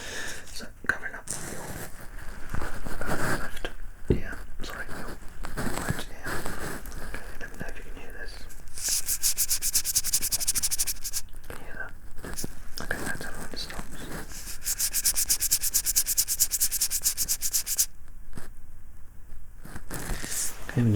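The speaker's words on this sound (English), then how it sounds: "I'm going to be rustling my fingers in the other ear." Fingers rustling close beside the ear during an ASMR head and hearing examination, producing crisp, crackly brushing bursts that come and go, intimate and near, with soft whispered speech in between.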